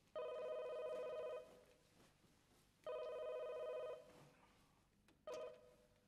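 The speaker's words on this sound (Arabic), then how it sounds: "لحظه بس ارد على التلفون وارد لك." A telephone rings in two long electronic bursts and a third shorter one, fairly loud against a quiet room with no talking.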